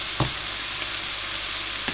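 Steak sizzles steadily in a hot pan, with bacon frying alongside, giving a close, continuous hiss with a couple of brief louder spits and no talking.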